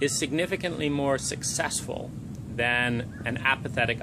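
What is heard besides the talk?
No everyday noise stands out behind the speech.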